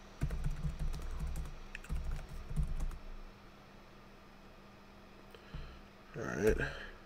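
Typing on a computer keyboard while setting up a 1994 Windows PC game demo disc, clustered clacking bursts in the first three seconds and another flurry near the end, with someone talking at intervals over it.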